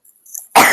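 A single sharp sneeze on camera bursts out loud and close after a brief quiet intake, ending abruptly.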